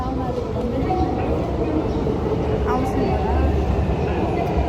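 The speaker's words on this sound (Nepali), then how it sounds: "एउटा ट्रेन त आइगयो।" Train arriving at a station in Japan, a steady loud rumble and rolling clatter with a faint high squeal, while a person speaks briefly over it.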